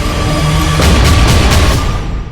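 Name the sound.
artillery and tank explosions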